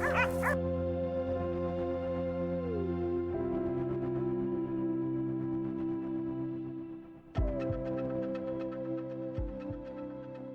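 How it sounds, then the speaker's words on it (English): A pack of hunting dogs baying at a cornered wild boar in a Florida swamp, sustained overlapping howls and yips rising and falling continuously, loud and fairly close. "Suddenly, the sound of barking dogs broke the silence."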